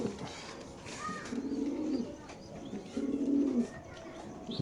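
Pigeons at a pigeon market give soft, rolling coos in two or three close bursts, set against a faint murmur of the surrounding crowd.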